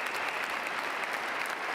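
An audience stands and claps together, steady dense applause that stays even and unbroken throughout the short stretch.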